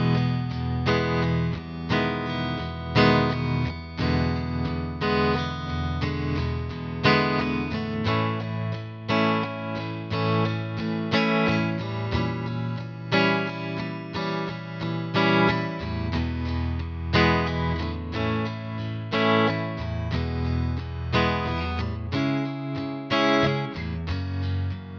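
Guitar playing the blues chords of a Christmas song with a distorted, effected tone, strummed in a steady rhythm over a sustained stretch, full and loud without talk.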